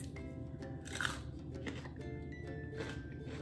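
Crisp crunching bites and chewing of lemony sugar snap peas close to the mic, with a few sharp snaps amid steady background hum.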